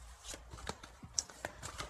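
Oracle cards being shuffled by hand for a reading, a quick run of soft, close riffling and tapping over about two seconds with no voice.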